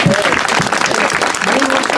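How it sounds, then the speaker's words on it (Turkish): A crowd applauds at the opening of a felt-making workshop in a village, steady loud clapping with some voices mixed in. "hepimiz bir kendimizi alkışlıyoruz"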